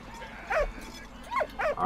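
A dog in the video game Valiant Hearts gives a few short whimpering yips and barks, spaced apart over a low ambient background, fairly close.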